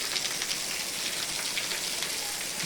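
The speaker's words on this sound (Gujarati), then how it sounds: "બજારોમાં તો કાંકરા કાઢી નાખ્યા એટલો વરસાદ પડ્યો" Heavy unseasonal rain pours down in a dense, constant hiss of drops striking surfaces. It is loud and even throughout, with no voices.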